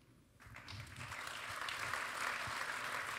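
A theatre audience breaks into applause for an actor, starting suddenly after a near-silent moment and settling into a steady, broad clapping at a fairly low level.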